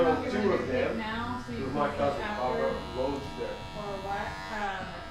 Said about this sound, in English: As soon as I hear it cutting, I'm pulling the clipper away.